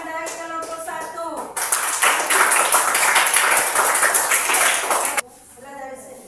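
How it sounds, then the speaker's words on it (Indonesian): A classroom group breaks into steady, fairly loud hand clapping for about four seconds, with speech before and after it. "tepuk tangan dari kelompok 1"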